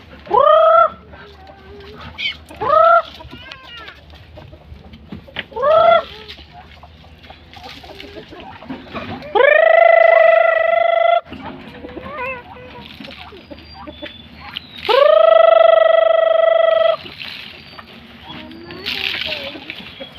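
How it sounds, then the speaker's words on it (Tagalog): Chickens cluck in short bursts, with a couple of longer drawn-out calls and scattered quieter clucks in between, fairly close by. "tignan nyo daw yung mga manok"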